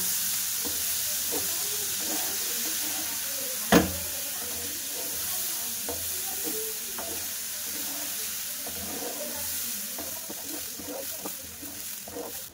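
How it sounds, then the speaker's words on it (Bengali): Drained basmati rice sizzling and being stirred in a hot pan for pilaf, with a steady bright hiss broken by scraping stir strokes and one sharp clack early on. "চালটা ভালো করে কষিয়ে নেব"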